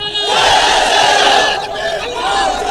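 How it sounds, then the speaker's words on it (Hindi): A large crowd at an election rally in Jaunpur, Uttar Pradesh, roars the Takbir slogan in unison, a loud, massed chant that swells and holds for a few seconds. "तो जोर से नारा लगाइए, नारे तकबीर।"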